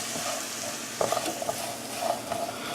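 Candied pecans with vanilla being stirred in a pan on the stove, a steady low sizzle broken by a few light scraping and clicking knocks from the spoon, close and without talking.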